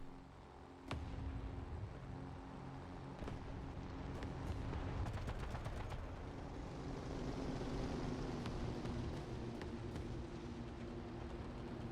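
An artillery strike in a military video game: dull distant explosions and sharp impact cracks rumble over a steady background hum, with several quick successive blasts building toward the middle.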